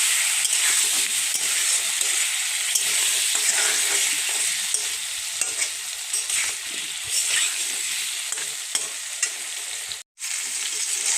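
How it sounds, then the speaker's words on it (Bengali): Potatoes with salt and turmeric powder fry in a pan in a loud, continuous close sizzle with stirring scrapes, briefly cutting out near the end before resuming. "হলুদ গুঁড়ো, দিয়ে আলুগুলি একটু ভালো করে লাল লাল করে ভেজে নেব।"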